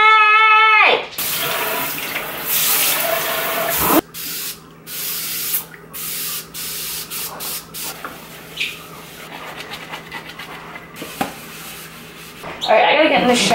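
Water runs from a kitchen sink faucet during washing, a steady hiss and splash that cuts in and out across the clip, with someone talking over it now and then.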